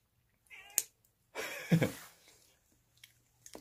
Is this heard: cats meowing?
yes